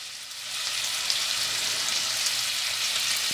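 Marsala wine poured into a hot pan with turkey fillets sizzles loudly, a bright steady hiss that rises quickly and holds, with no talking.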